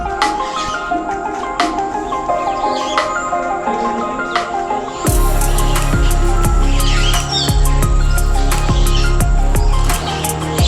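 Many birds chirp and call throughout a large zoo aviary. Bright tweets and trills overlap from several directions, and partway through a steady, louder background hum joins the mix.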